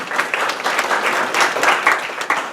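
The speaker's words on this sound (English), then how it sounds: "Give a big round of applause to Trey Kramer, please." Audience at a business community gathering breaks into a round of applause, a dense continuous patter of many hands clapping at close range, with a few louder individual claps standing out.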